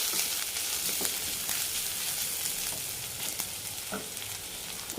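Sliced onions and a large tomato sautéing in a pan for a hotel-style fish mango curry give a constant close sizzle, with scattered light taps and scrapes of stirring.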